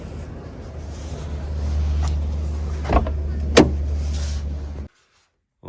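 A 1992 BMW E34 525 M Tech with a no-start fault cranks without catching: a steady low whirring drone runs for about five seconds with a couple of brief clicks, then cuts off abruptly into silence.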